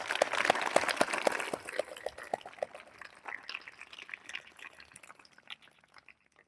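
Applause from a school audience thanking guests: a burst of scattered hand claps that thins out over a few seconds into sparse, fading claps and a quiet room.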